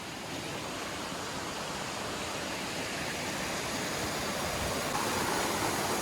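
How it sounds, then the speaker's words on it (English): A waterfall on the South Fork of the Piney River in a Virginia national forest pours steadily beside a campsite, a loud, constant broadband rush with no breaks. "Basically right next to our campsite, we have our own private waterfall."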